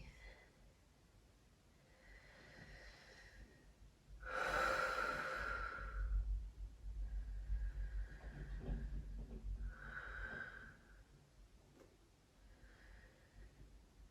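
Slow, deep breathing during a yoga session, with long airy inhales and exhales heard close, one stronger breath standing out among softer ones over a quiet background.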